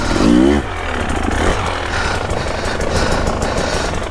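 A KTM 300 two-stroke dirt bike engine revs loud and close, rising in a quick burst and then holding a raspy, crackling drone to the end.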